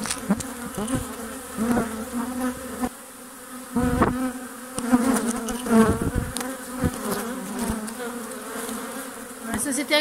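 Swarm of honeybees collected from a nearby village, humming steadily inside their hive, close and continuous with fluctuating intensity and a few louder passes of individual bees near the listener.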